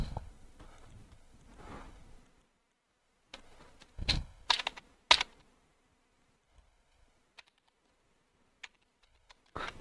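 Computer keyboard keys clatter in short scattered bursts of clicks, quiet and close, with a few isolated taps between pauses after a stretch of faint background murmur.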